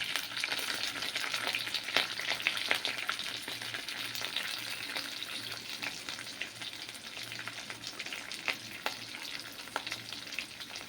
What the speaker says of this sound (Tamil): இந்த ஸ்டேஜில் நம்ம வெங்காயத்தை போட்டுருவோம்.